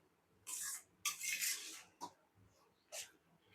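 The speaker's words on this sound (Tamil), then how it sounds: "ஒரு 2 மினிட்ஸ் ஹையில் வச்சு கிண்டிக்கலாங்க" Scraping stirs of white pasta with cheese in a pan, four separate bursts of spoon on pan spaced over a few seconds, close and fairly clear against a quiet kitchen.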